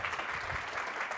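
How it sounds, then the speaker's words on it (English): A conference audience gives a round of applause, dense steady clapping from a crowd heard throughout the short moment with no speech over it. "Please give him a round of applause."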